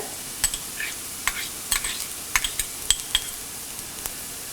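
Chopped onion, ginger and green chilli stirred into hot oil after mustard seeds have popped, giving a light sizzle under irregular scrapes and clinks of a spoon against the pan, close up with no talk.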